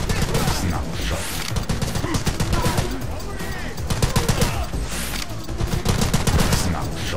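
Snap-shot gunfire in the shooter game The Club: loud, rapid bursts of shots and crackling impacts, almost continuous across the whole stretch, with a voice speaking faintly in between.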